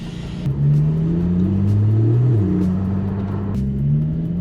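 A deep, throaty Porsche 718 GT4 engine rumble rises and falls as the car revs steadily through a titanium race exhaust, loud and close, with a low exhaust burble throughout.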